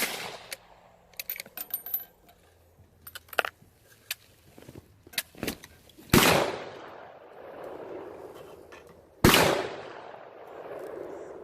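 Two sharp, loud .308 Winchester rifle shots with cast bullets at an outdoor range, each a hard crack followed by a long rolling echo, spaced a few seconds apart after scattered small clicks and handling noises.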